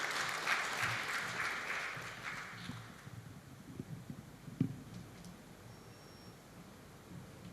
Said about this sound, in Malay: Beri tepukan bagi Tuhan kita.